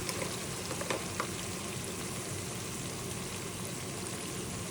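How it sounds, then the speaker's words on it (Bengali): Onion and spices frying and being stirred in a pan while cooking kangla fish with mustard paste, a steady close sizzle with faint scraping stirs throughout. "পেঁয়াজটা আমার গলে গেছে, এখন একটু নাড়াচাড়া দিয়ে আমি দিয়ে দেব মশলা।"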